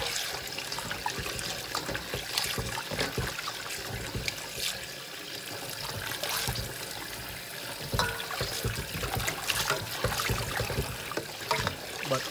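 Tap water trickles and splashes irregularly as raw chicken is rinsed in a kitchen, with intermittent sharper spatters over the flow.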